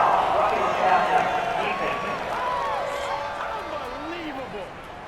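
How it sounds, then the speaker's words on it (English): Stadium crowd in an NFL football video game, Buccaneers versus Panthers, reacting to a penalty call with a loud sustained roar and scattered shouts that gradually fade, with voices audible over it. "this crowd does not like that call"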